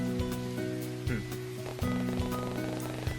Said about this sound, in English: the rain only seems to get heavier the moment he leaves